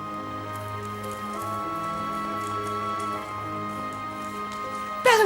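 Steady rain patter in an animated fairy-tale cartoon about a beetle, a continuous wet hiss running under sustained musical tones with a brighter burst near the end.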